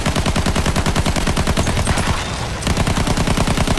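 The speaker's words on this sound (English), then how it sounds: "I shot the gunner out of the bomber" Machine guns in a bomber aircraft video game fire in rapid continuous bursts, loud and close, with only a brief dip in the middle before the rattling resumes.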